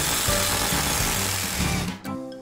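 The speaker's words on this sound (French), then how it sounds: "Alors, où est la machine à souder?" A cartoon welding machine repairing Santa's sleigh, a loud steady buzzing, rattling mechanical drone with pulsing low hum, running continuously before a brief dip and a quick restart near the end.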